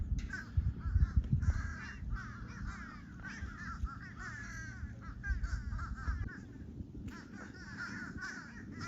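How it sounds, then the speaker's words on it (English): Crows cawing repeatedly in a loud, overlapping chorus, harsh calls coming in bursts with brief pauses, some near and some farther off. "It's crow happy hour over here."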